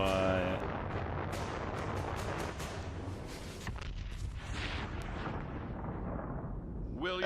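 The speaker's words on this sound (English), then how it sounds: "Will your bomb land on a rival camp of degenerates?" A bomb explosion in a Bethesda video game trailer: a continuous heavy roar of blasts and rumbling debris with sharp cracks, loud throughout and slowly fading toward the end.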